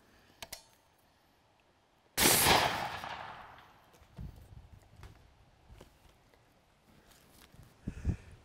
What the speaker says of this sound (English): What do you say we hit this guy with M8 armor piercing incendiary?